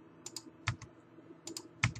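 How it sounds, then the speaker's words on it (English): A few sharp key presses on a computer keyboard, heard as scattered quiet clicks with short gaps between them and no voices. "we can just hit the key delete on the keyboard"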